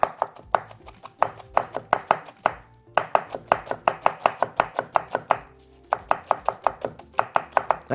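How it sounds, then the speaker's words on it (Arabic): A knife chops onion finely on a board in a kitchen, a fast, steady run of crisp close taps in quick bursts with short pauses between them. "افرم البصل فرم ناعم"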